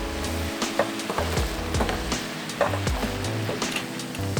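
Chicken breast cooking in a dry pan with no oil, stirred now and then: a low sizzle with intermittent wooden scrapes and light knocks, close up and without speech.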